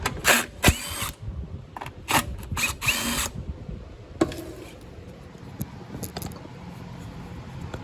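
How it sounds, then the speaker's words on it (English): Three bolts backed out of the recoil starter on a Briggs 300E small engine: several loud, close bursts of a power driver with ratcheting clatter, then quieter scattered clicks and handling noises. "Pull the recoil off. Just 3 bolts to do that."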